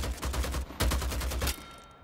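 Rapid bursts of automatic gunfire in Vampire: The Masquerade – Bloodhunt, two close, loud volleys of quick repeated shots separated by a brief gap, ending in a short fading tail.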